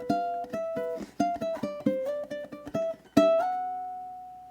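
Ukulele playing measures 17 and 18 of a song, a short phrase of bright plucked notes in an uneven rhythm, played close and clear, ending on a ringing note that slowly fades.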